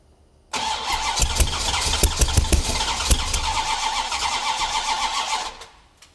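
A Dodge Ramcharger cranks and fires up close, its engine catching with a rough, uneven roar that holds steady for about five seconds before cutting off abruptly.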